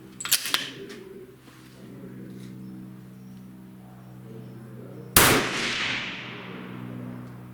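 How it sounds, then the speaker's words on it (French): A rifle fired while zeroing its scope: after some handling clicks and quiet rustling, one sharp, loud close shot rings out and decays over the following seconds, with no talk. "Donc on va faire le premier tir."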